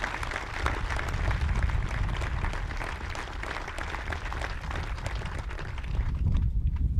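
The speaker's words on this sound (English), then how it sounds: "Please join me in a round of applause for the incredible soldiers of the 12th Combat Aviation Brigade." A crowd applauds soldiers of the 12th Combat Aviation Brigade at a change of command ceremony, dense, sustained clapping that holds steady throughout with a slight swell near the end.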